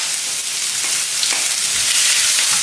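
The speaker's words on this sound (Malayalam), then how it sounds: "ചൂടായ എണ്ണയിലേക്ക് വെജിറ്റബിൾസ് മുഴുവൻ ചേർക്കാം." Vegetables for a chicken noodle kebab drop into hot oil and fry with a loud, continuous sizzle, broken by a few stirring scrapes.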